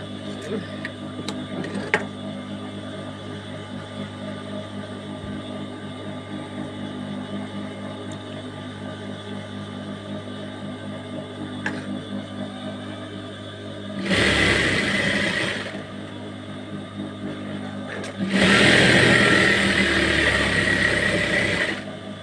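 A sewing machine stitches pajama pieces in two short bursts, a few seconds each, rising sharply out of a quiet room hum after a long calm stretch.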